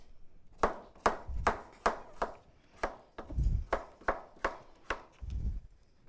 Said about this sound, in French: Je coupe des petits morceaux quand même